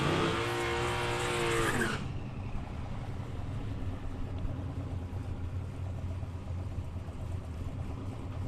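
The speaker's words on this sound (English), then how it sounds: "So it actually spun the tyres here at the start. He had that second stab at the throttle." A drag racing car at Palmyra Raceway spins its tyres off the start line: a loud, close engine roar for about two seconds, then a steady rush of tyre and engine noise that continues alone to the end.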